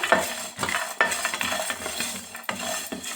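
Cumin seeds and a handful of cashews frying in a pan, stirred with a spoon that scrapes and clinks against the metal in quick repeated strokes over a soft sizzle.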